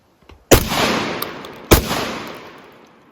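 A Citadel Boss 25 12-gauge shotgun fires two loud, close blasts about a second apart, each with a decaying boom that rings out afterward.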